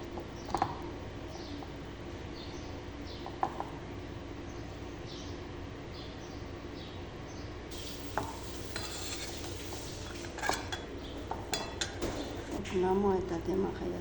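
Spiced chicken pieces being mixed by hand into a flour batter in a bowl, giving soft, wet squelching and stirring sounds at close range, with a few light clinks and a faint sizzle of frying potatoes in the background.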